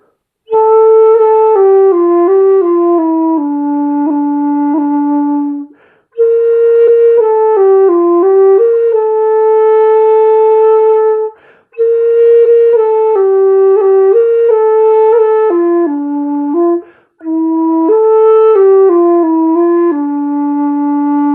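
A simple, smooth melody played on a breathy dongxiao flute, phrased in four long passages separated by short pauses, loud and close with no other sounds.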